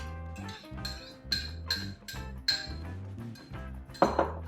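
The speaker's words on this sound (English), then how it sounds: "We need to whisk our eggs." Eggs are whisked in a bowl for an orange and cardamom cake, the whisk clinking against the bowl in a quick, regular rhythm of close, bright taps, with no talking.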